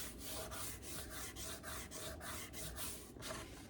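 A craft journal cover is rubbed by hand in quick, even back-and-forth strokes, about a dozen soft scuffing passes in steady rhythm, close and quiet with no voices.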